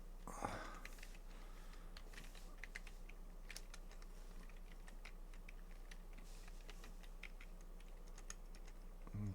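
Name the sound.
typing on a computer keyboard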